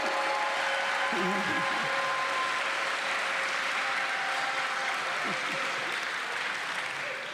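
An audience at a Los Angeles State of the City address applauds steadily, with a dense, sustained clapping wash that fills the hall throughout, joined by a few faint voices.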